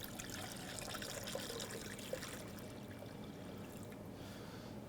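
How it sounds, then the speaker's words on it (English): Cold water poured into a pot over eggs in a kitchen, a steady close pour with trickling and splashing that runs continuously and eases toward the end. "So I'm just going to pour some water in,"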